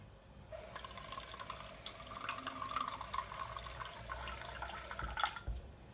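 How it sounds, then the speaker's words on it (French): A small amount of water trickles into a container while non-Newtonian fluid is being made, a soft, fairly steady pour lasting several seconds and ending with a light knock. "vous mettez un tout petit peu d'eau, mais comme ça"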